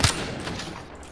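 Rapid burst of gunfire in the video game Apex Legends, a dense, close volley of shots that fades into a lingering noisy tail over about a second.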